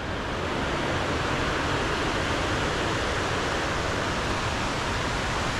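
Water pours over a dam along a creek in Mill Creek Park, Youngstown, Ohio, making a steady, unbroken hiss that holds at an even level throughout, with no other sounds breaking through.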